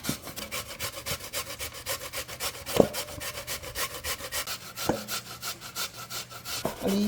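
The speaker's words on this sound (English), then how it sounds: "But I prefer to grate it. I like the old-fashioned way." Yam and potato being grated by hand for a Jamaican pudding, a close, rhythmic rasping with rapid repeated strokes and a few sharper knocks from the grater.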